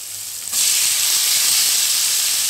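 Onions, ginger and garlic hitting a hot pan for a rajma gravy set off a sudden loud sizzle about halfway through the first second, which then settles into a steady, hissing fry.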